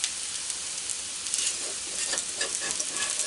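Apple pancakes frying in oil in a pan, a steady close sizzle and crackle running throughout with small popping bursts, no voices.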